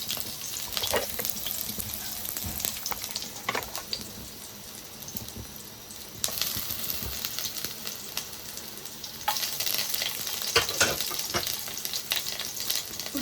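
Onion fries in a pan for garlic Maggi noodles, a soft continuous sizzle broken by scraping stir strokes and crackling pops that swell louder toward the end, with no talk.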